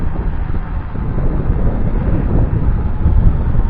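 Gusting wind buffets a small F196 Sharks optical-flow drone in flight, a loud, rough, low rumble of microphone wind noise that swells and surges continuously.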